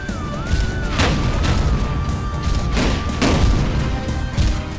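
A shotgun in the video game Tower of Guns fires slow energy pellets, heard as a few heavy, evenly spaced booming shots over a steady whine and background game noise.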